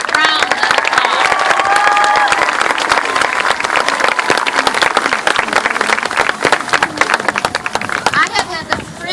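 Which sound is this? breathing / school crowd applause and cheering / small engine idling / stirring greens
school crowd applause and cheering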